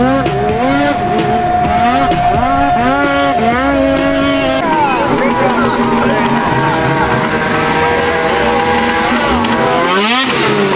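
A Polaris snowmobile races at night at Kelley Canyon, its engine screaming loudly and shifting pitch up and down as it climbs, with a crowd and announcer voice underneath.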